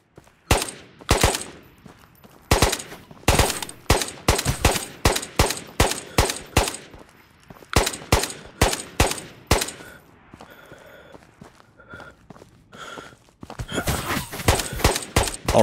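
Rapid bursts of automatic gunfire in the video game Ghosts of Tabor crack in quick volleys, pausing briefly before more shots ring out, with faint tones in the gaps.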